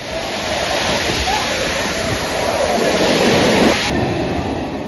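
Floodwater rushes down from the mountains onto a temple path during heavy rain, a loud, steady broadband roar of flowing water that persists throughout.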